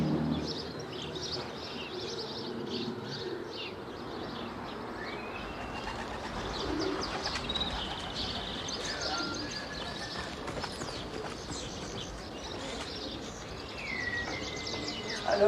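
Racing pigeons in Belgium, soft cooing and chirps with occasional wing flaps, moderately close under a busy background with faint voices.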